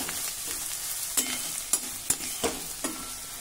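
Onion, dried coconut, ginger and garlic frying in a pan over medium heat, a steady bright sizzle with about five sharp scraping knocks as a spoon stirs, close and alone without speech.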